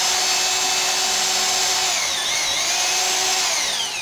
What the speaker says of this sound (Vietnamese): Mình ấn nhẹ thì nó sẽ chạy với tốc độ nhẹ và mình ấn mạnh thì nó sẽ có